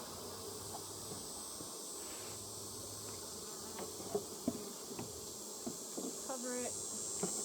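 Honey bees buzz steadily around an open beehive that is storing honey, a faint, continuous insect drone with a few slightly louder passes near the end and no talking.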